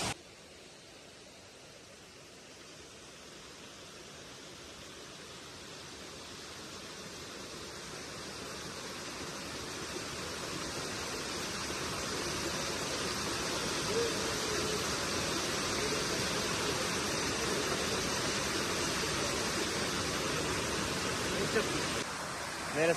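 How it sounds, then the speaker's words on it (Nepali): The small Barje stream in the hills around Sirubari flows in a continuous broad rushing hiss, growing gradually louder and nearer over time with no other distinct sounds. "यहाँ चाहिँ खोला रहेछ, यसलाई चाहिँ बर्जे खोला भन्छ"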